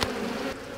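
Honey bees swarm around an open hive as the queen is spotted, a dense, steady buzzing close by that drops slightly in level partway through.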